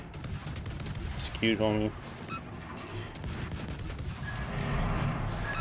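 Naval gunfire from a Jinan cruiser battle in World of Warships, with bursts of shots and booming salvos mixed with game sound effects, heard under steady close talk from a player.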